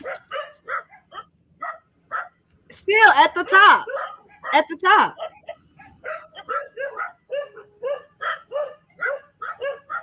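Dogs bark at a hilltop property reached by a steep climb, giving a long run of short, rhythmic yaps with a denser, louder flurry in the middle, heard clearly while a person talks over them.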